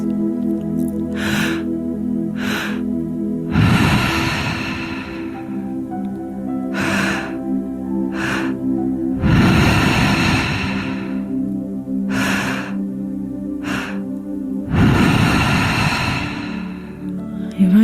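Deep, connected breathing close to the mic, three long rushing breaths spaced several seconds apart, with quick sniffing intakes between them and no talking.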